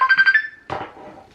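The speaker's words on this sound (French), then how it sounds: "Désolée, c'est mon téléphone. Je pense que je vais le mettre en silencieux parce qu'il n'arrête pas de sonner." A mobile phone ringtone chimes in a quick run of four or five bright repeating tones, close and clear, then cuts off as a voice begins talking quietly.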